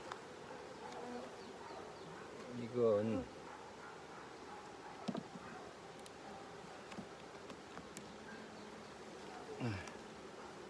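Honey bees buzz steadily at an open beehive during a rainy-season inspection, a continuous close drone with occasional louder passes, while someone talks over it.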